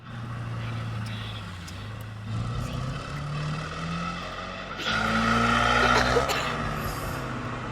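A new car drives along, its engine drone rising and falling in pitch as it accelerates through the gears, steady and fairly close, with a brief louder surge near the end.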